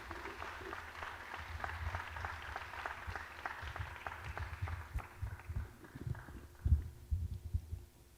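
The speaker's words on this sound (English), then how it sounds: "please give a round of applause to Dr. Kwesi Asabre." Conference hall audience claps at a scientific conference opening, muffled and fairly quiet, with thumping irregular hand claps that grow a little stronger toward the end.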